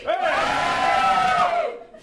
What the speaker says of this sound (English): Give me a cheer if you're into politics